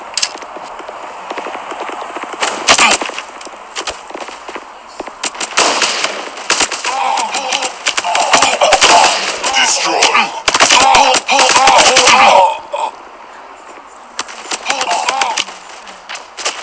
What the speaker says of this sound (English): Shot.